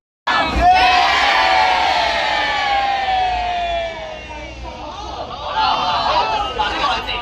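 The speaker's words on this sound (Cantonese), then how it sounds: "俾啲掌聲我哋5位 KOL 好唔好啊？" A large crowd at a Dragon Boat Festival race in Aberdeen, Hong Kong cheers and shouts loudly, a sustained roar of many voices with high excited yells, then thins toward the end.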